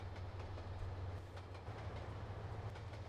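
An HST train running in Trainz Simulator 2, a continuous low engine rumble with a steady rolling rail clatter, loud and close throughout.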